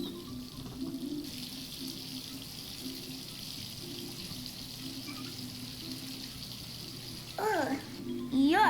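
Hot water runs steadily from a bathroom faucet in Life is Strange 2, a continuous mid-level rush with a voice heard briefly near the end.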